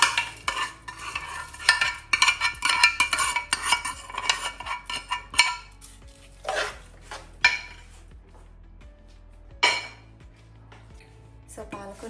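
A spoon scrapes and clinks against a pot as tempering is stirred into spinach dal, with repeated metallic clatters and wet stirring sounds in bursts, then quieter pauses between a few final knocks.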